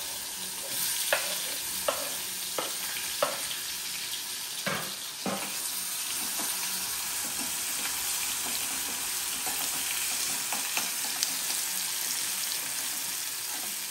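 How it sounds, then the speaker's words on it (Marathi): Sliced onion frying in hot oil in a home kitchen, a steady close sizzle with occasional stirring scrapes and clicks. "कांदा गोल्डन ब्राऊन होतोवर म्हणजे लालसर होतपर्यंत तेलात चांगला भाजून घ्यायचा"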